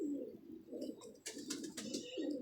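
A pigeon coos softly and close by, giving several low rolling throaty calls in a row, with faint rustling and light clicks in between and no talking.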